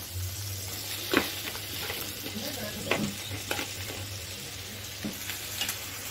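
Capsicum sizzling in a hot pan while being stirred, a continuous frying hiss with occasional sharp scrapes and taps of a spoon against the pan, close and with no talking.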